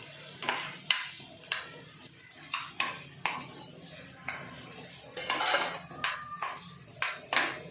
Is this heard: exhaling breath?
no